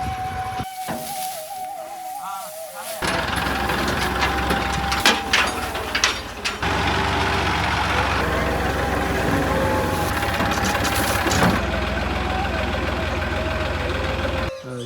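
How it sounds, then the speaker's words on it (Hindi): A tractor engine runs at a rough steady idle, close and loud for most of the stretch, after a brief quieter opening, with a faint voice and some clunks mixed in. "वो ट्रैक्टर आ गया है।"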